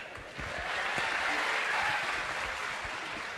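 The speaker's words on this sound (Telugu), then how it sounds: "క్లాప్స్." A crowd at the Paisa film audio launch event claps in a soft, steady wash of applause that swells and holds for a few seconds.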